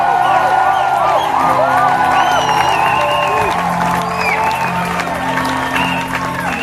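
Church congregation at an evening worship service cheering, whooping and applauding in praise of Jesus, a loud sustained crowd roar with scattered shouts and claps filling the room throughout.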